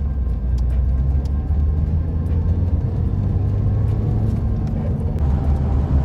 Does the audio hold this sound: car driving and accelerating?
yes